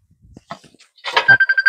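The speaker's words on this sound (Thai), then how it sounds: "ให้คุณพ่อรับโทรศัพท์ไปก่อน" A telephone rings in a rural Thai home beside a vegetable garden, a quick run of loud, evenly spaced electronic trills near the end after some faint scattered noises, with no talking.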